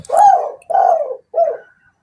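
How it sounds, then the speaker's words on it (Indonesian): A spotted dove coos nearby in three soft, throaty, rounded notes, the last one shorter, with no other sounds around. "Bunyi burung tekukur di mana?"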